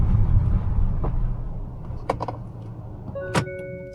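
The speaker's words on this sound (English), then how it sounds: "So if I were to switch off the vehicle now" A Hyundai Santa Fe is switched off, its engine hum fading under a few faint mechanical clicks inside the cabin, followed by a short electronic chime near the end.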